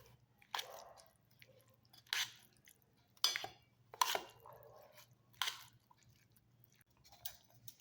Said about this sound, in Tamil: இப்போ நம்ம சாதத்தோட சேர்த்து நல்லா கலந்து வச்சிடலாம்